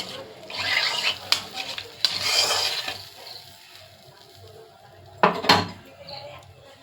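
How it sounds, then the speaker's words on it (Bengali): Pomfret fish frying in mustard in a pan, with soft sizzling under scraping and clinking of a spatula against the pan, plus a few sharper knocks and a louder scrape near the end. "পমফ্রেট মাছটা দিয়ে দিলাম, সরষা দিয়ে পমফ্রেট মাছটা হচ্ছে।"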